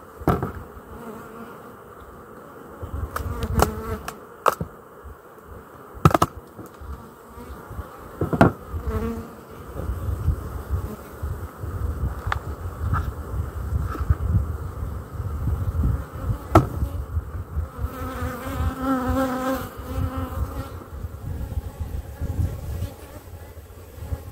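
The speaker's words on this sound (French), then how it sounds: "Donc là on est sur de l'abeille Buckfast." Buckfast honeybees drone steadily around an open hive, a close, dense buzz with individual bees passing near the microphone, plus some wind noise and occasional handling knocks.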